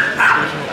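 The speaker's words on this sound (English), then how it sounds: "It's a dog going crazy." Dog barking excitedly on a London street, a short loud burst of yips rising over steady outdoor street noise.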